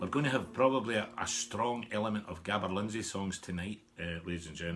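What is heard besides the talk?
None of the usual background noises is heard.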